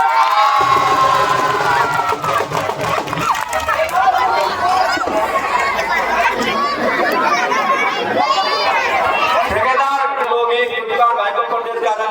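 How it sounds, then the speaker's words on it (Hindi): A large political gathering welcoming someone with loud cheering, shouts and clapping, a dense crowd roar that swells and fades over about twelve seconds, with voices calling out through it. "जोरदार तालियों से स्वागत करें"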